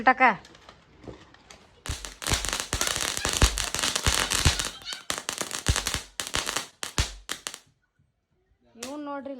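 Firecrackers burst at a Ganesh immersion celebration in a dense, rapid volley of loud cracks and pops lasting several seconds, then a pause as voices talk before and after.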